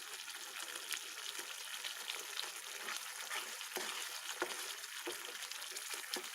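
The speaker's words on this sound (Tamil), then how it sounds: "நல்ல பளபளா சவுண்டு வருது கொதிக்கும் போது" Curry leaf pepper kuzhambu boils in a pot with a steady, close bubbling and sizzling hiss that carries on without a break and has no talk over it.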